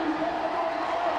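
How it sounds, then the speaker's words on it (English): Crowd noise at an under-13 schools cup football final, a broad sustained roar of cheering spectators with some whoops, heard at a distance as a steady wash. "And listen to that crowd."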